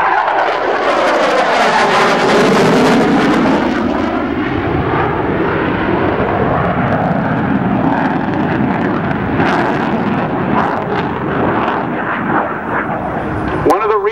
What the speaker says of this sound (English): the Hornet comes in so fast